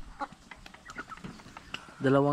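A rooster's short clucking call breaks in near the end after quiet background rustling and faint knocks, among hens.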